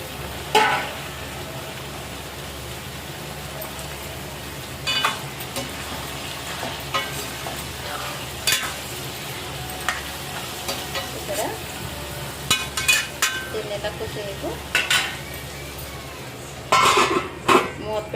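Pieces of elephant foot yam fry in a pan for a cumin tamarind curry, giving a steady close sizzle throughout, punctuated by occasional scrapes and clinks of a utensil against the pan.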